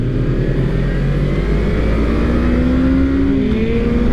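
A 2023 Suzuki GSX250R motorcycle engine hums steadily during a ride, its pitch rising and shifting through a gear change, with wind rush mixed in, loud and close.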